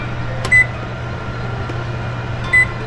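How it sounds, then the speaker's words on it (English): Two short electronic beeps from a kitchen oven timer being set while making homemade pizza, spaced about two seconds apart over a steady low appliance hum, with no talking. "So I'm just now going to set the timer."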